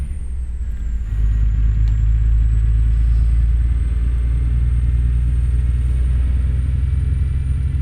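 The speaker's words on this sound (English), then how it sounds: "Man, that engine just doesn't sound that bad at all." A truck engine in American Truck Simulator, driving through Montana, gives a steady, loud, low rumbling drone that swells after a slightly quieter first second and holds evenly throughout, with no talking.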